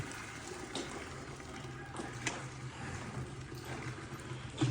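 Water poured from a lifted bucket on a farm while washing a tractor, a soft continuous splashing flow with a few louder gushes and spatters, fairly close.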